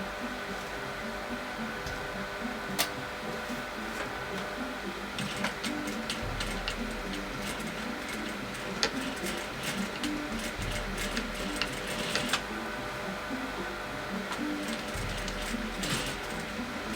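An industrial sewing machine back stitching thick curtain fabric for a pinch pleat curtain, a steady mechanical ticking and whirring rhythm that runs continuously at close range with short bursts of faster stitching.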